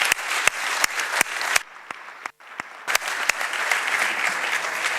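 Audience applause for a president after his introduction at a live-streamed panel event, a wash of clapping with sharp individual claps standing out, briefly dipping midway before resuming at steady volume.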